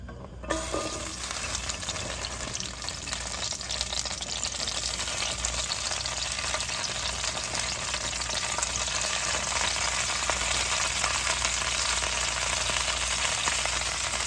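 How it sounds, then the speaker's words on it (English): Wet green beans hit a hot pan and sizzle hard, a loud, dense crackling hiss that starts abruptly and holds steady for several seconds, close up with no voices. "So first I'm going to start by putting the green beans in the pan."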